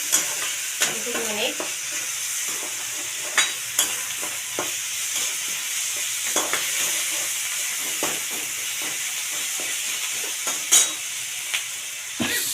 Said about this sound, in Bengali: হলুদ গুঁড়ো একটু নেড়ে নেবো